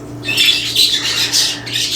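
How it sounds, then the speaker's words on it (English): Birds squawk loudly and almost continuously, harsh calls overlapping in bursts close by, with no talking. "the birds are being really loud today"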